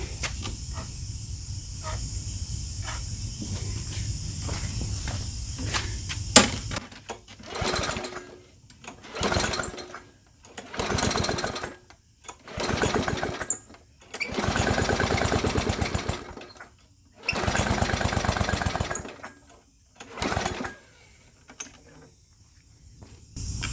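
A Brute lawnmower's small engine runs unevenly at close range, starting with a steady putter and then surging in repeated bursts that rise and cut off, leaving near-silent gaps between them; no voices.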